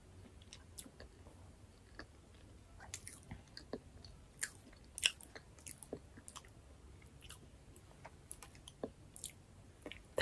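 Strawberry cream bread being chewed in close-up, with soft squishy chewing and small clicks repeating steadily throughout, quiet and intimate with no talking.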